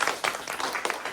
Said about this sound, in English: Can everybody give him a beautiful round of applause?